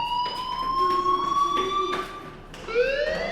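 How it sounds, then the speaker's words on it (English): A school fire alarm in Life is Strange wails loud and continuous, its rising and falling siren-like tones sounding alone and close. "Hey, do you hear that fire alarm?"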